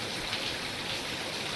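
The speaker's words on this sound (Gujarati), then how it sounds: "વરસાદ થઈ ગયો છે ધૂમધામ ચાલુ" Heavy rain pours down in a dense, even hiss, faint and unbroken for a brief moment.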